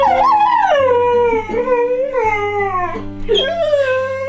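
A dog howls and whimpers in long, wavering, pitch-sliding cries, loud and close, over a low sustained background drone.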